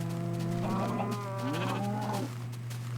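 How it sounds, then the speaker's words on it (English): A sheep bleats once in a drawn-out wavering call over a steady low hum from a video game ranch, close and clear with no talking. "I think that sheep went around the house."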